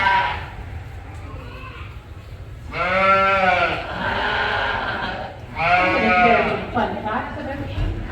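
4-H lambs on a farm bleat loudly in two or three drawn-out, quavering calls close by, with quieter bleating and background farm noise between them.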